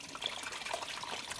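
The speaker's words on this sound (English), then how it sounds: "I'm pouring in the water" Water is poured into a Cuisinart coffee maker's reservoir, making a steady, fairly faint trickling splash that runs without a break through the short moment.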